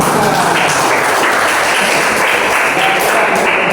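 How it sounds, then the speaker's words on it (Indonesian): Steady crowd applause fills the whole stretch, a dense, even patter of many hands clapping at close range. "Tepuk tangan buat."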